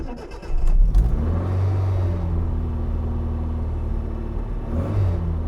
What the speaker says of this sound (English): Listen to that motor. How nice is that?